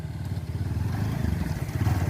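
A motorcycle engine idles with a steady low throb at moderate loudness, holding even throughout with no voices over it.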